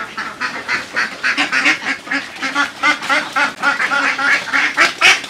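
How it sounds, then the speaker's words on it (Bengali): A group of farm ducks kept for eggs quack loudly and close by in a rapid, overlapping chorus that runs without pause. "ডিমের জন্য কিছু হাঁস রেখে দিয়েছি।"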